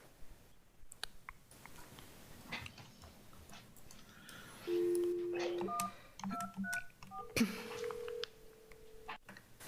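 Telephone keypad tones dialed in a short run of distinct beeps, some sustained, during a county Planning Commission public hearing while checking for call-in participants, heard over quiet room ambience.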